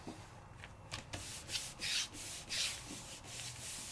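A hand rubs the back of a rubber background stamp on paper, giving repeated quick, dry strokes in an uneven rhythm, close and quiet, with no talking.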